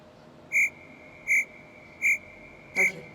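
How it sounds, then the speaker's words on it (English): A crickets chirping sound effect: four evenly spaced, bright chirps repeat at a steady rhythm, loud and close, over a faint background hiss with no talking. "I hear crickets now."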